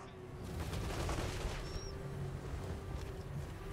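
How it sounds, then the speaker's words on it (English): Dense, continuous rapid fire from a Hellblaster volley gun in Total War: Warhammer 3, a steady rattling barrage at moderate distance with rumbling battle noise underneath. "And they shoot a lot of bullets very quickly."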